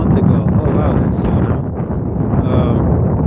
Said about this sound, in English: It's starting to really get windy now.